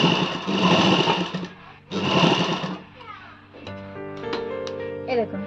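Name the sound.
sewing machine stitching a double seam on a blouse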